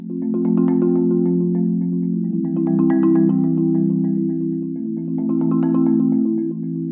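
Marimba chorale played with uneven roll speed, sustained rolled chords whose loudness swells and dips unevenly across several seconds, resonant and close with no talking.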